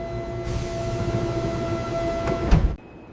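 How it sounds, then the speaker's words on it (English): Train doors sliding shut on a train carriage over a steady hum with faint tonal chimes, ending in a close, solid thud as they close, then sudden quiet. "The doors are closing now!"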